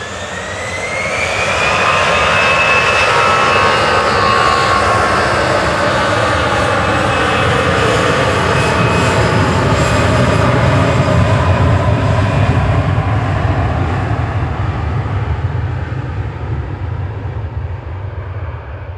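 EasyJet airliner jet engines spooling up and roaring through the takeoff roll at Manchester Airport, a loud sustained rumble with a rising whine, steady and near for the full stretch before easing slightly at the end.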